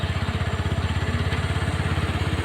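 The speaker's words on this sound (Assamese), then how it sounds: "এয়া দুখন বাইক পাৰ হ'ল, 3 নম্বৰ আৰু আহি আছে" A motorcycle engine idles or rolls past on a mountain road toward Tawang, a close, steady low putter with a rapid even pulse throughout, no voices.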